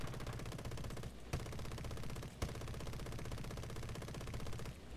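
Machine guns of a B-17E bomber in a flight combat game rattle in long, rapid sustained bursts, loud and dense, with a brief pause and a sharp crack partway through, and no talking.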